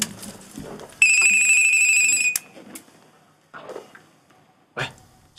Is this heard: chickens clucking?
no